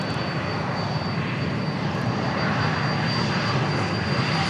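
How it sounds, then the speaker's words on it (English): An Embraer Phenom 300 business jet at Dallas Love Field roars steadily and loudly nearby, a continuous broadband engine rush with a faint high whine. "this is Phenom 300 Embraer"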